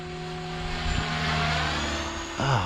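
A Synergy 516 RC helicopter flies at a field, its rotor and motor giving a steady, loud tonal whine with a pitch shift near the end as it maneuvers.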